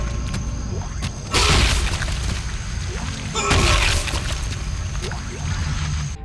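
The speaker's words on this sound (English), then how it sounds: "We can also stomp on them when they're down, which has a very satisfying feel of weight in its thuds." Heavy stomps on a downed enemy in Dead Space land as two weighty broadband thuds about two seconds apart, amid game ambience with low rumbling and smaller impacts.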